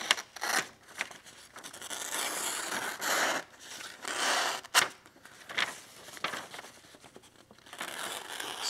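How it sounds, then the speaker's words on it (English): A knife with a Sandvik 14C28N steel blade cuts through paper, giving a series of close, dry crinkling slices and tearing swipes that come in uneven bursts with short pauses between them. "Still sharp enough to cut through that paper."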